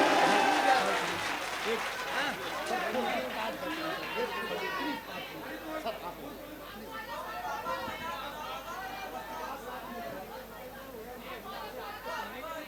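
Audience at an All India mushaira in Kamthee, Nagpur clapping, a loud burst of applause that gradually thins into scattered claps under crowd chatter and murmuring voices.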